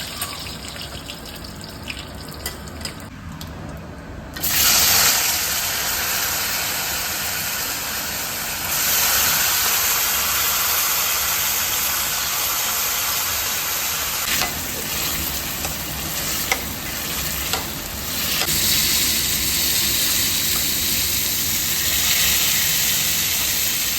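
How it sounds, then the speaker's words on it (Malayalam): Mustard seeds, curry leaves and pumpkin tempering in hot oil, a loud, steady sizzle and crackle that bursts in after a quiet start, with stirring scrapes running through it. "കടുകൊക്കെ പൊട്ടിച്ച് അതിലേക്ക് കറിവേപ്പില ഇട്ടതിന് ശേഷം മത്തനും കൂടെ ഇട്ടിട്ടൊന്ന് താളിച്ചെടുക്കും"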